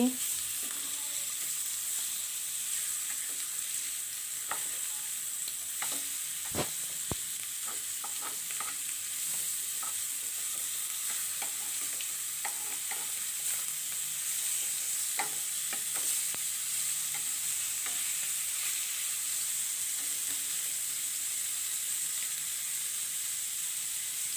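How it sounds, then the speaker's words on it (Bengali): Fish fry in a pan with a steady hiss of oil, joined by occasional clanks and scrapes of a spatula as the pieces are turned, no voices. "তো মাছগুলোর এক পিঠ ভাজা হয়ে গেছে, আমি উল্টিয়ে দিচ্ছি।"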